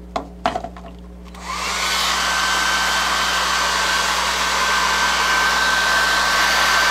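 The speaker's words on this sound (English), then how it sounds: "this hairdryer, it's putting out some serious heat" A hair dryer switches on after a couple of clicks and blows steadily with a loud, constant whooshing roar and a thin high whine.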